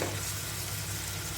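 Shrimp being stirred with spices in a hot pan for a Bengali shrimp bhuna, giving a steady, close sizzle and frying hiss with soft scraping and no voices over it.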